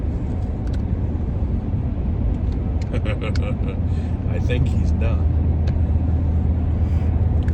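Steady low rumble of a truck rolling down the road, heard from inside the cab as a constant droning road noise, with people talking briefly over it.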